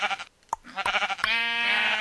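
Sheep in Minecraft bleat several times in quick succession on a sheep farm, a series of close, wavering baa calls ending in a longer drawn-out bleat, heard alone without talk.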